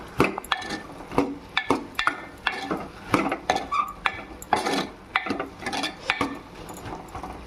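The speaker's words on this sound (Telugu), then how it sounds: "ఒకసారి మర గెరటి పెట్టి తిప్పుకుంటున్నాండి" A ladle stirs bottle gourd curry (sorakaya pulusu) in a pot, making repeated metallic clinks and scrapes in a steady rhythm of roughly two strokes per second, close and fairly loud.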